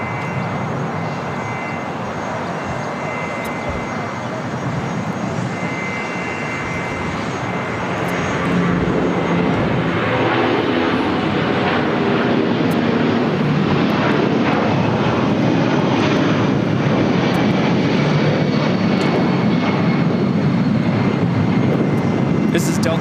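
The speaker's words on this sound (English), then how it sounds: "Got that Delta 757 now taking off." Delta Boeing 757 jet taking off at LAX, a broad engine roar that builds steadily and stays loud and close throughout, with a faint voice beneath.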